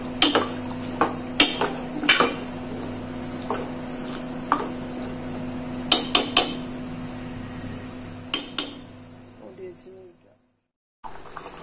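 Spoon stirring a yoghurt curry with coconut milk in a pot, heard as scattered clinks and scrapes of metal against the pot over a steady kitchen hum, some strikes sharper than others, before dropping to near silence.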